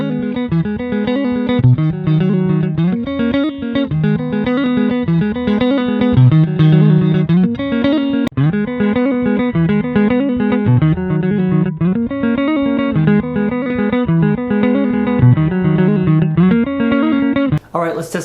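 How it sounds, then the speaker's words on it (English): Clean electric guitar tone played through the neck pickup of a budget Donner DST-100T Strat-style guitar, steady chords and melodic notes ringing continuously, close and full, with no talking. "Let's start off with some clean tones, and I will use the neck pickup to start."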